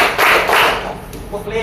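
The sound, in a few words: class clapping hands in a counted pattern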